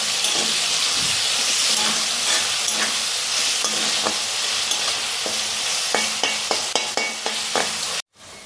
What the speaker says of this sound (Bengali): পেঁয়াজটাকে ভালো করে একটু ভেজে নিচ্ছি।